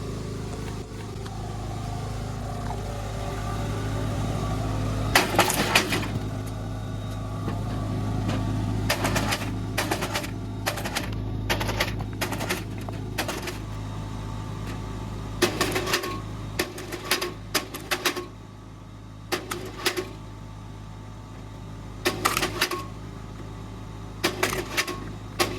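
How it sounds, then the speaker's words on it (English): A generator drones steadily in the background while a kinetic electric log splitter works nearby, adding repeated sharp clacks and bursts of mechanical impact over the constant engine hum, with no talking. "I cannot talk because of the generator"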